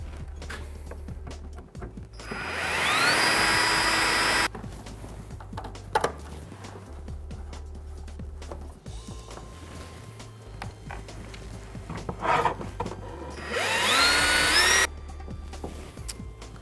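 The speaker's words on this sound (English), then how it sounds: "Go in behind and drill your holes." A power drill bores holes in CBR250R race bodywork in two loud bursts, each spinning up in pitch, with quieter scraping and handling sounds between them, close up, and no talk.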